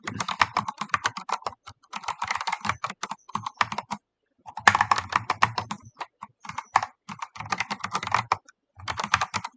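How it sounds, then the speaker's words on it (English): Fast typing on a computer keyboard, bursts of close, crisp key clicks with short pauses between runs, no talking. "Let's just type."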